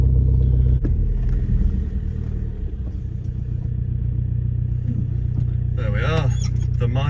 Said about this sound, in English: so listen to that. What an engine.